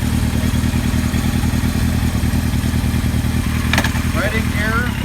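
A 1976 Kawasaki KZ900 motorcycle being ridden, its engine giving a steady, continuous drone at an even pitch throughout, with a few brief high chirps near the end.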